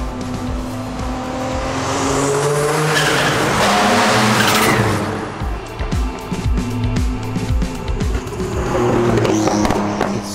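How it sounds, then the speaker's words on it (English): A Porsche 911 GT1 EVO race car on a public motorway roars loudly and close, its engine rising and falling through gear changes with a harsh, rasping drone that never lets up. "So loud when you drive the car"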